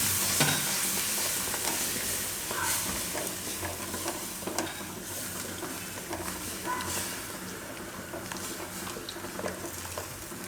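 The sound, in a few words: stirring spiced yogurt into chickpea curry in a pan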